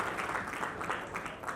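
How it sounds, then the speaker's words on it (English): Audience applause at a business networking training session, a brief, soft, steady patter of clapping from a seated group. "please give a big round of applause"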